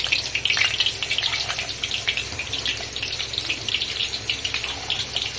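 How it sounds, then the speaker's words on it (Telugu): Chicken meatballs dropped into hot oil for deep frying give a steady, bubbling sizzle with crackling bursts, close and fairly loud throughout with no talking. "ఆయిల్ వేడైనాక ఇప్పుడు చికెన్ బాల్స్ వేస్తున్నాం"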